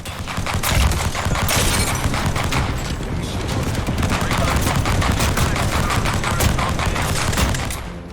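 Rapid pistol fire from a P2020 in an Apex Legends match, shots crackling continuously and loudly for about eight seconds amid a dense battle din of other gunfire and explosions.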